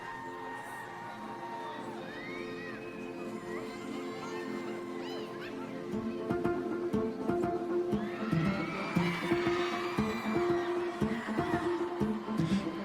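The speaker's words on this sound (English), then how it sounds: "That's a crowd." A concert crowd cheering and shouting, a steady distant roar that swells louder midway, mixed with music and scattered high whoops.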